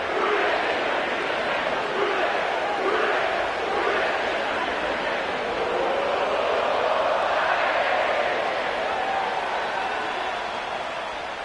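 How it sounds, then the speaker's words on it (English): A sellout crowd at Paycor Stadium in Cincinnati, a broad steady roar and murmur of thousands of spectators filling the stadium, even and sustained throughout. "sellout crowd has arrived at Paycor Stadium in Cincinnati"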